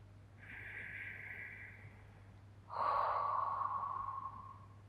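Deep breathing during cool-down stretching after a run: a long, soft exhale, then a stronger, breathy inhale or exhale, close and quiet over a steady low hum, with no talking.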